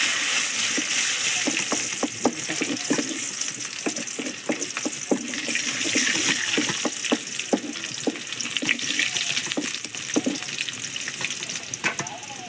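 Chopped shallots fry in a pan for a spiced mackerel curry with ground coconut and raw mango, giving a steady loud sizzle with scattered crackles and pops throughout.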